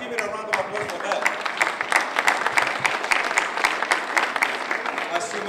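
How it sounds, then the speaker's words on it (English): An audience at a World Press Freedom Day 2015 event at Toronto City Hall breaks into a steady round of applause that lasts the whole stretch, dense and even, with no speech standing out above it. "let's give it a round of applause for that."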